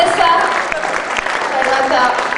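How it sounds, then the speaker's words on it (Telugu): An audience claps steadily at a Telugu cultural speech event, a loud sustained burst of applause filling the whole moment with no gaps. "చప్పట్లు ప్లీజ్"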